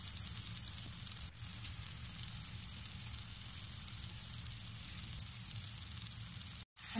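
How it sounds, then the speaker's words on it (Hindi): Masala with onions and tomatoes sautés in a pan for stuffed achaari eggplant, giving a steady, even sizzle that carries on without a break. A brief clatter sounds near the end. "मसाला अच्छे से सौते हो गया है।"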